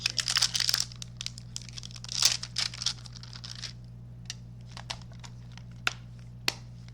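Paper grabbed and handled at a cardmaking desk crinkles in several close bursts, loudest at the start and around two seconds, then thins to scattered light rustles and taps over a steady low hum.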